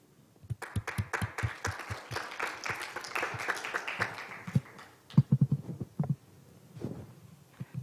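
At a youth peace forum session on the Korean peninsula and the UN SDGs, a hall audience claps to welcome a speaker to the podium. The claps are moderate and fairly distinct, building and then thinning into scattered last claps.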